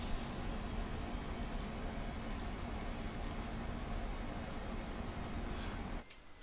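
A MiG-15 jet, a 1950s-vintage fighter in the DCS flight simulator, on approach to land: a steady, loud engine roar with a thin high whine that runs without a break, then drops off abruptly near the end.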